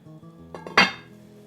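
A lid settles onto a pot of simmering shrimp broth with a few light metallic taps followed by one sharp clank, close and brief, ringing out faintly afterward.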